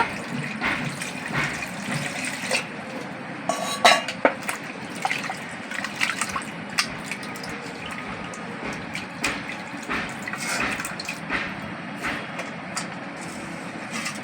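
Potatoes rinsed in a bowl of water for a Bengali Mughlai paratha filling, with steady splashing, sloshing and dripping throughout and a few sharper clinks and splashes near the middle, no talking.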